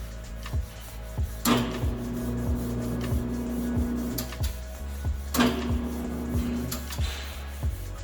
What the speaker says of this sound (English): we always like to go through with anything abrasive, even a red scuff pad, and just clean any of the old sealer or any debris